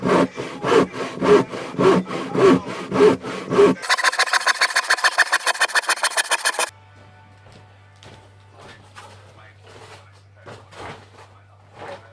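A handsaw cuts timber for a shed loft with loud, rhythmic back-and-forth strokes, first slower and then faster and tighter, before the cutting drops to quieter scattered scrapes over a low hum.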